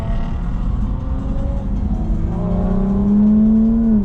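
An Infiniti G37S engine hums steadily on the Linas-Montlhéry circuit during a Jap N Car festival session, heard from inside the car, with pitch rising smoothly toward the end as it accelerates.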